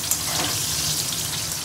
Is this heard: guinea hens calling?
no